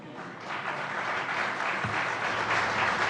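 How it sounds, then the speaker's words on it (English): An audience at the opening of the Raisina Dialogue in India breaks into steady, sustained applause, a dense wash of clapping that lasts throughout at a moderate level. "You give speeches and you quote someone else and immediately everyone applauds."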